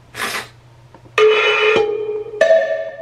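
A cowbell sample in an electrocumbia production plays a few bright metallic strikes that ring on, heard clearly amid sparse electronic sounds and no talking.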